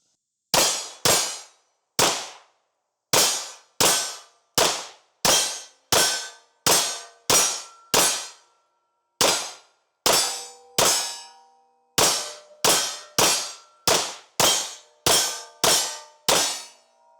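A Staccato HD P4.5 pistol fires a string of about twenty-five evenly paced shots, each followed by the bright ringing clang of a steel target, with brief pauses between bursts.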